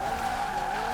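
A car drifts in the Forza Horizon 4 video game, with a steady high tire squeal over a sustained engine drone, loud and continuous for a moment.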